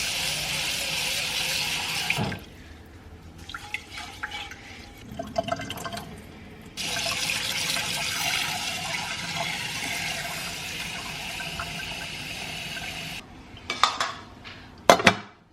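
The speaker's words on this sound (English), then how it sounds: "first we're gonna wash the rice" Uncooked rice for sushi is rinsed and swished in water, with a running tap, splashing and clinking of a pot and utensils, broken by quieter pauses and ending in a few sharp knocks.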